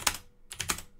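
Computer keyboard keys pressed while saving a file in a terminal text editor: a quick burst of clicks, one tap followed by a short cluster of several more, close up and alone.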